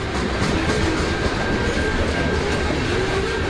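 A train rolls along the rails with a dense, continuous rumble and rattle, a faint clickety-clack and a thin wheel squeal, loud and steady with no talking.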